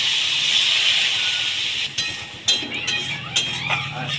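Turmeric, coriander powder and water for chilli paneer cooking down in a pan, a steady close hiss and sizzle with a few clinks of a utensil against the pan toward the end.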